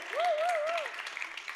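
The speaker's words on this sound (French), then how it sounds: "Bravo, on l'applaudit, bravo, merci." Studio audience on a French television show applauds a contestant; scattered clapping runs underneath as a voice sings or calls out a wavering tone near the start.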